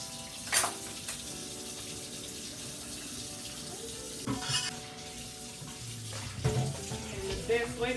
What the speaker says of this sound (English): Sometimes washing dishes is therapeutic.